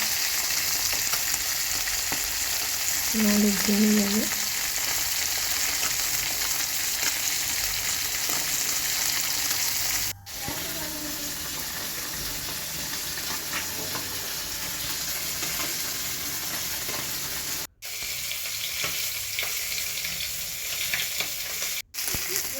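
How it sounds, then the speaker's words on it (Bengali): Pabda fish frying in oil in a pan, a loud, steady sizzle that carries on almost unbroken, with a brief spoken phrase and a few abrupt cuts. "এরপরে পাবদা মাছটাকে ভেজে নেবো"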